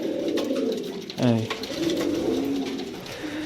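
Pigeons coo in a loft of tumbling birds, a close, low repeated coo rising briefly above steady background noise while someone speaks nearby.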